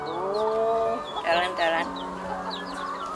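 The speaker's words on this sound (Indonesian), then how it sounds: "Ini ayam. Ya, ayam." Chickens cluck in a village yard near goat feed, a few short squawking calls rising over a steady background, with a person speaking briefly.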